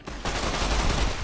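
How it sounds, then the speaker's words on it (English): A dense burst of rapid gunfire in Fallout: New Vegas rattles on without pause for about a second, loud and close, after a brief quieter start. "Can you stop shooting at me?"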